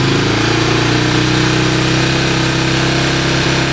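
A 1985 Honda ATC 250SX three-wheeler engine idles close by, loud and steady with an even rapid putter and no pauses.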